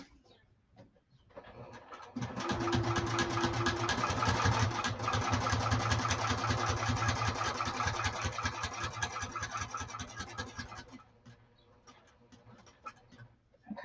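Sewing machine stitching a saddlebag lining, a steady fast mechanical whirr of needle strokes running for about eight seconds before stopping, with quieter handling noises on either side.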